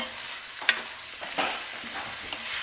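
Beef for a stew is stirred around a hot pan, giving a soft steady sizzle with a few sharp scraping clicks of the spoon, close and fairly quiet.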